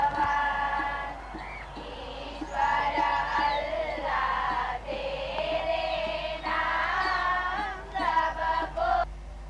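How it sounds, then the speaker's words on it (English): Large excited crowd at Motera Stadium, a steady roar of many voices with rising swells of cheering and shouting throughout. "Motera Stadium is abuzz with excitement"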